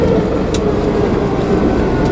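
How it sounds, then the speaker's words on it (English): A 4WD vehicle driving through heavy snow at an off-grid homestead, its engine and gear whine forming a steady, continuous drone heard from inside the cab, with no talk. "Actually, I love the sound of the gears."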